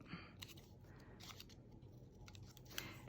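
Scissors snipping a paper strip for a craft layout, faint and close, with a few soft crisp cuts and light rustling over a quiet background.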